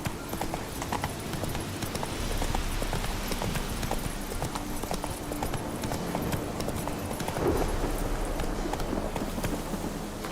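A horse gallops in The Witcher 3, its hoofbeats a steady, rapid clip-clop rhythm close by and loud throughout, with no talk over it.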